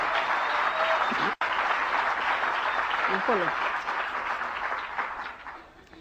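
Convention audience applauding at an Amway event, dense sustained clapping from a large crowd filling the hall, briefly cut off near the start and tapering down toward the end.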